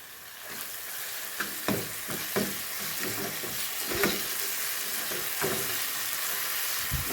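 A curd dish with onion, garlic and green chillies sizzles and bubbles steadily in a pan, with several stirring scrapes and clinks close by.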